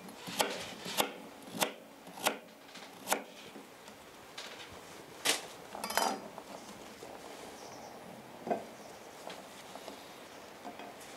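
A knife chops vegetables coarsely on a board. Sharp, distinct strikes come in a quick, fairly even run, then a few scattered cuts follow. The sound is close and moderately loud, with no talking.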